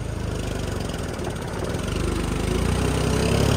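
A John Deere tractor hauling a heavy load of 350 bags runs with a steady, loud diesel throb close by, its rapid low pulsing slowly growing a little louder.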